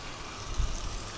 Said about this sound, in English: And then we're going to add water, or stock if you want, but I'm just using water.